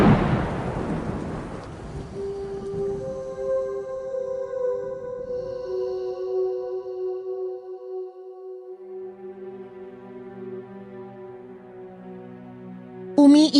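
Thunder and rain as a storytelling sound effect: a heavy rumbling crash opens and slowly fades beneath sustained, drawn-out musical tones that carry on alone.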